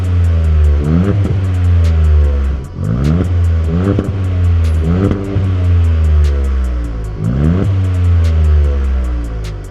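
A VW Up GTI with a non-resonated GPF-back performance exhaust revs repeatedly, several loud rising blips with a throaty drone falling back to idle between them, close and unaccompanied.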